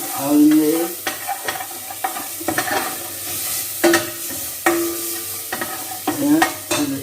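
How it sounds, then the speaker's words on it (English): Garlic and chives fry briefly in a hot pan, a bright close sizzle punctuated by frequent scraping and clinking stirs against the pan, fairly loud and without speech. "Adding the garlic. So it's fried for 30 seconds only."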